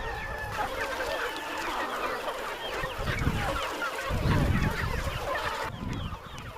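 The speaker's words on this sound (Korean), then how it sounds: "한눈에 보기에도 꽤 많은 수의 닭들" A large flock of free-range chickens roams an open mountainside farm, giving dense, overlapping clucks and honk-like calls that run steadily throughout with a busy, close chorus and rustling ground noise.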